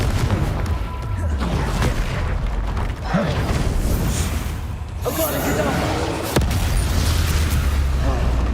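Confringo fire spell blasts in the Hogwarts Legacy video game, heavy booming bursts near 3, 5 and 6.4 seconds over a dense, continuous wash of game sound effects and low rumble.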